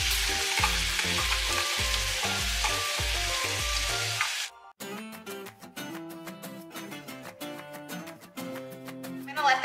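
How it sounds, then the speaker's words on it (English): Diced onion and ground beef sauté together in a pan for chili, giving a steady frying sizzle with rhythmic stirring at first, then music takes over. "I'm also gonna add the diced onion in with it to saute the onions as well."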